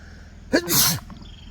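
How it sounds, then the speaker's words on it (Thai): A single loud, close sneeze bursts out alone against a quiet background, with a sharp intake and a short, breathy release. "โอ้ยจาม"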